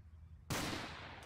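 A single sudden, sharp blast of gunfire from the BattleRush shooter game breaks a quiet moment and rings out briefly, with no voices.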